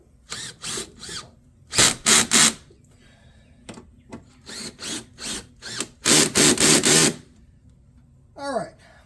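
Power tool driving bolts into a Dodge Ram windshield wiper motor: several short whirring bursts separated by pauses, loud and close, with one longer run near the end and a brief voice at the finish.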